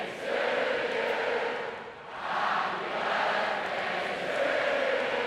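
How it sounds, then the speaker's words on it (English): A huge festival crowd at Glastonbury sings Happy Birthday together during a show: a dense, sustained roar of massed voices that dips briefly and then swells back, with no one voice standing out. "Is there any chance you might sing Happy Birthday, Penny, everybody?"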